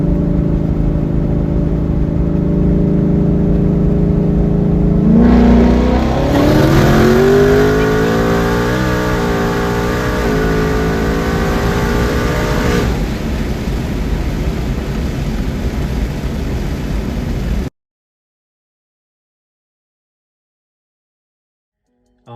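A twin-turbo Mustang on pump gas accelerates hard in a 60–130 pull, its engine roaring loud and rising steadily in pitch through the gears for several seconds before cutting off abruptly into silence.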